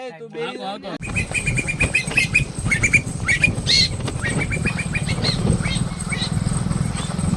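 A mare carrying a rider approaches with steady clip-clop hooves, her footfalls mixing with nearby bird squawks and outdoor chatter after a brief opening of voices.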